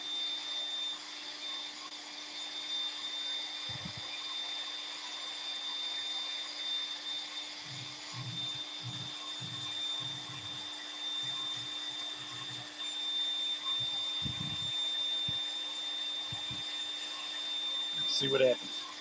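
CNC spindle spinning at 18,000 RPM while cutting a cupholder, a steady high whine with constant hum, joined by intermittent low cutting bursts, close and continuous.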